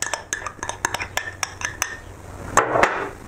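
A metal pot holding onions is handled and set on a stove, giving a quick series of sharp clinks and taps followed by a heavier clatter near the end.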